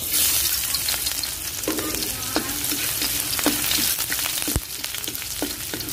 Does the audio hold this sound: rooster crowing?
no